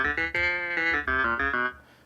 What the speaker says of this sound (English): this is the I Stoley Sounds Keys clavinet sample